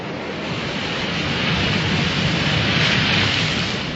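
Deep blue sea waves wash and roar in a broad, steady surge, loud and close, with no voices.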